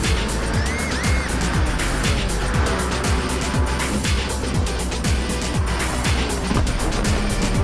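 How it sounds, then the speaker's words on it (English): Race car in a racing game braking hard into a corner, with a steady loud engine roar, repeated downshift blips and a brief tire squeal running throughout. "Whoa, that's some late braking."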